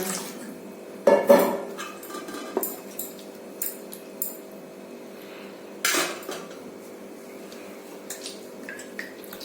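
A pan being washed in a kitchen while rasmalai is prepared, with sharp metal clanks and clatters of pots and dishes in a few loud bursts over a steady background of running water.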